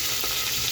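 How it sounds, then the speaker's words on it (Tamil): Mustard seeds, onion and green chilli frying in hot oil, heard as a brief, continuous close-up sizzle with no voices. "இப்போது எண்ணெய் கடுகு எல்லாம் போட்டாச்சு, வெடிக்குது கடுகு."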